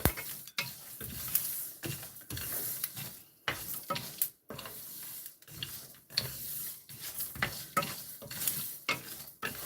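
Something frying in a pan and being stirred, heard as repeated scraping and clattering strokes over a faint sizzle, uneven in rhythm and close by, with no talking.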